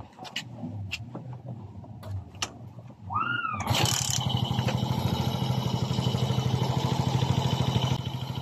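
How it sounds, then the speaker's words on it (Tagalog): A Suzuki Smash 115 motorcycle engine, serviced for a timing chain problem, cranks with a rising whine and catches, then settles into a steady, close, loud idle after a few quiet knocks and clicks. "kailangan natin paandarin uli ang kanyang motor para sa pinalin ng ating trabaho"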